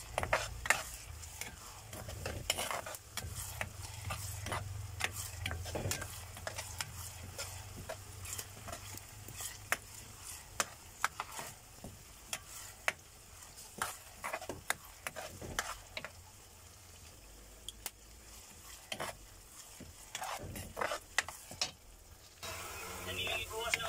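Chopped chili and garlic stir and fry in a pan, giving a steady sizzle with repeated scraping and clicking strokes of the utensil throughout. The cooking is close and the sound continuous.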